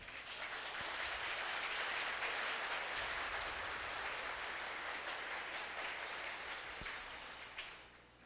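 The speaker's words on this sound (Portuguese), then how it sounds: "Eu gostaria só de pedir uma salva de palmas para toda a equipe de organização." Audience applauding the organizing team at a Portuguese-speaking gathering, a dense, steady wash of clapping that holds for several seconds and fades slightly at the end.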